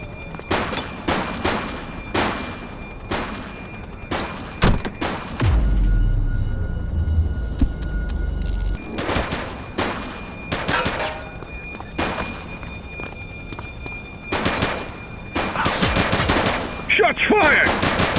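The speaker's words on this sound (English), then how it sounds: "Shots fired!" Rapid bursts of automatic gunfire and single shots in The Precinct video game, loud and repeated across the scene, with a deep booming rumble midway and sharp cracks continuing to the end.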